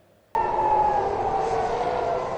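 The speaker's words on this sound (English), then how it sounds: "In Tel Aviv, the sound of sirens reverberated throughout the city" Air raid sirens in Tel Aviv start abruptly and hold a loud, steady wailing tone that rings on without pause through the rest of the stretch.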